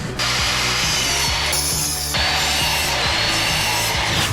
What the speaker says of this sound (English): Cutting the 2x4s and 2x3s on a miter saw was super easy.